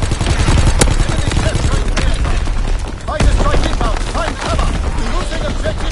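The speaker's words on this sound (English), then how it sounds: "Incoming enemy artillery." Video game battlefield combat on PS4 with incoming enemy artillery: dense bursts of gunfire and explosive booms, loud and continuous, with faint radio-style voice callouts mixed in.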